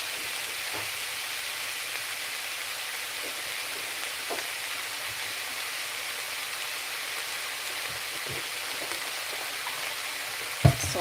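Food simmering in a pan, a steady, fairly quiet bubbling hiss held evenly throughout with a few small pops and a brief clink near the end.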